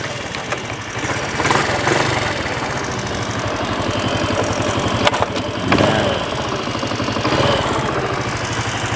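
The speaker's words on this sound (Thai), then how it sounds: "เดี๋ยวฟังเสียงเครื่องกันนิดนึงนะครับ ว่า เป็นยังไงบ้างนะครับ" A Honda Custom C900 motorcycle engine idles close by with a loud, steady rhythmic thrum and mechanical ticking, rising in a couple of brief revs.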